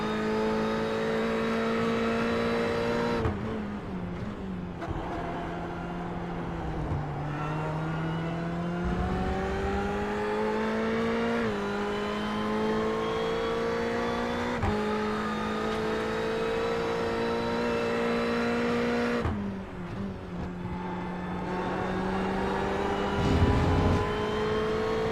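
Race car engine heard on board in an iRacing sim at Donington National, droning loudly and continuously with throttle lifts, gear changes and revs rising and falling, no talk.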